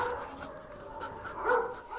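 Dogs at an Istanbul shelter for once-abandoned street dogs give a brief, faint yip or whimper over a quiet low background, heard at a distance with no voices.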